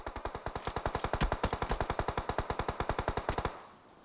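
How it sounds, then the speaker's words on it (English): Sustained automatic weapon fire in a PUBG Mobile battle, a steady run of sharp, rhythmic shots at close range that stops abruptly near the end, leaving a brief faint tail. "you can hear the gunfire from all angles right now"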